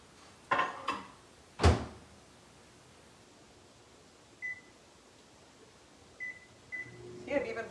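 A kitchen microwave oven is worked late at night: door clunks, several short keypad beeps and a faint hum, with quiet rustling between the sounds.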